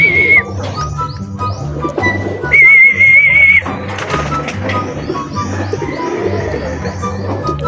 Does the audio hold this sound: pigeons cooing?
yes